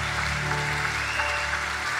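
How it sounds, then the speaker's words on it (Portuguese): Church congregation applauding in a steady, moderate wash of clapping, with a low sustained hum or organ tone underneath. "Eu gostaria que quando você se assentasse, você aplaudisse ao Senhor Jesus mais uma vez."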